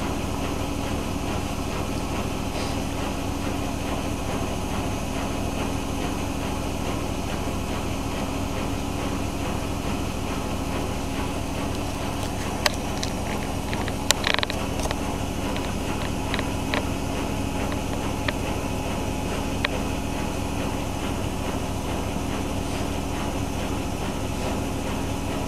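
A Miele W5748 washing machine on a full-load cottons 40°C cycle ramps its spin up toward 1200 RPM, a steady broad whooshing drone with a few sharp rattles and clicks partway through, loud and unbroken.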